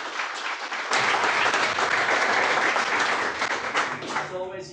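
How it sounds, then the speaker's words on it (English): An audience at a network operators' meetup at Zendesk Ireland applauds a lightning-talk presenter. The clapping swells suddenly after a near-silent first second, stays loud and dense, then tapers. "Another round of applause."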